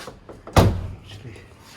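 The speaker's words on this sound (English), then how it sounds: "You close the door." A car door, worked on during a Hansshow auto trunk install, shuts with a single sharp, solid thud at close range, followed by quiet background sounds.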